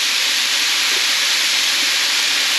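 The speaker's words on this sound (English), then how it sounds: "Now we're going to add in our fish sauce." Fish sauce hits a hot pan with onion and pork, raising a loud, steady, broadband sizzle that holds without a break.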